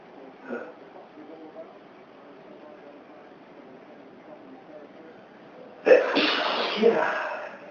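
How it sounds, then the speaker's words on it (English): A single loud, sharp sneeze from someone with a dust allergy in a dusty room, bursting out near the end after a stretch of quiet, with a faint intake of breath earlier. "Makes me sneeze."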